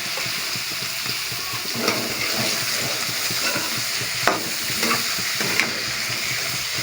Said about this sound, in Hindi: लहसुन भी डाल दिया है और